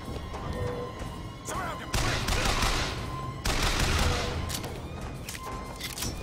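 Enemy gunfire in the shooter game BioShock Infinite: bursts of rapid shots and crashing impacts, loudest in two heavy volleys mid-clip, over a constant layer of game noise.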